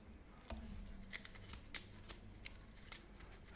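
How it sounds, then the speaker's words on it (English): A deck of Marvel Champions playing cards is shuffled by hand, a series of sharp riffling bursts and soft card slaps in an irregular rhythm, close and fairly quiet, with no talking. "Shuffle these up."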